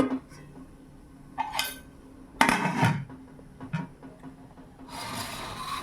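A pot of steamed bhapa pitha is lowered into a vessel of boiling water, giving a few sharp metallic clunks and scrapes between quieter stretches, with a soft hiss building toward the end.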